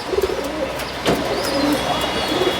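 Pigeons of old highflying bloodlines coo repeatedly in low, rolling calls from a close loft, with a few faint chirps over a steady background hum and no talk.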